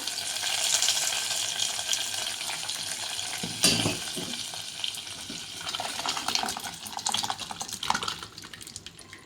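Hot tempering hits a pot of mango and cucumber dal with a sudden loud sizzle that keeps hissing and bubbling afterward, close up and without talk.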